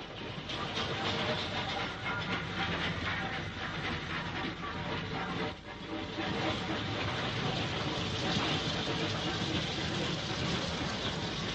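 A 1950s LMS freight train double-headed by steam locomotives 49361 and 49340 runs on the Soho line near Birmingham, heard as a continuous dense rumble and hiss with faint rail clatter, dull and muffled like an old recording.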